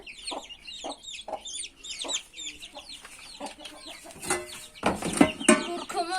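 Chickens and five-to-six-week-old chicks cluck and cheep in a coop, with rhythmic peeping calls close by, followed by louder, busier clucking and scratching.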